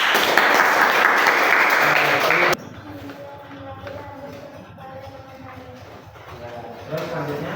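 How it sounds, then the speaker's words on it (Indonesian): Loud applause from a classroom group fills the first couple of seconds, then cuts off abruptly, leaving a quieter room with light shuffling and faint voices. "Beri tepuk tangan dulu untuk kelompok 1."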